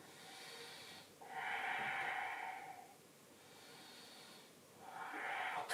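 Slow, audible breaths taken during a floor yoga pose, two long airy exhalations rising and fading in a calm rhythm, close and fairly soft, with no talking.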